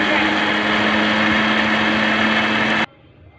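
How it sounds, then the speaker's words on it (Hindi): An electric grinder whirs loudly and steadily, grinding roasted chaat masala spices, with a high, even motor whine that cuts off abruptly near the end, leaving quiet. "अब हम इसे ग्राइंड करेंगे"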